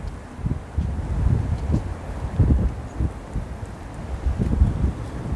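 Steady wind rushing and buffeting a microphone outdoors in Brooklyn Heights, New York City, with gusty low rumbles rising and falling throughout.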